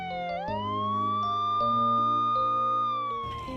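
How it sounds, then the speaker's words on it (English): An ambulance siren wails as the vehicle races through light night traffic in Accra, Ghana, a loud, sustained rising tone held steady and close before dropping off at the end. "the ambulance races through with little effort"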